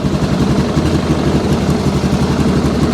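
A Yamaha Grizzly 660 ATV engine runs close by at high revs, around 5,000 rpm, during a charging system check, giving a dense, steady mechanical drone.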